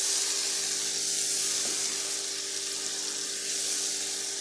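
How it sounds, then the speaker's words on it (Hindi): Chicken fries in masala over a high flame for a chicken salan curry, giving a steady, close, loud sizzle that hisses without a break. "और हम चिकन को भूनेंगे 7-8 मिनट।"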